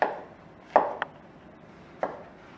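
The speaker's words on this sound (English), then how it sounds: "And we have our mushrooms, and they're just about done, just about sliced." A knife slices mushrooms on a cutting board, giving three or four separate close, soft chops spaced irregularly, with a quiet background.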